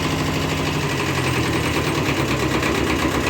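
A Kubota B5001 mini tractor's diesel engine runs at -10 degrees frost with a loud, close, steady rattling drone under added throttle, continuous throughout.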